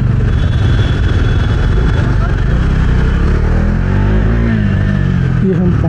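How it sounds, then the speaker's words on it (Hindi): Dense, steady roar of a Kolkata traffic jam heard from a motorbike near Howrah Bridge, with continuous engine rumble and road noise throughout, loud and close. "हमारा स्वागत हो चुका है ट्रैफिक जाम के साथ।"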